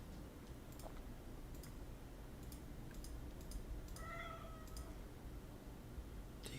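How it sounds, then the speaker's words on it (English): A pet cat meows once, a short rising call heard faintly over steady room hiss with a few light ticking clicks around it. "guys hear my cat? This is what I have to deal with."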